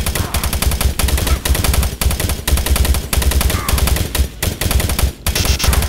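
Gunfire from the video game Doom 3, dense, loud rapid-fire bursts pounding in fast repeated volleys with short gaps between them, heavy and close throughout.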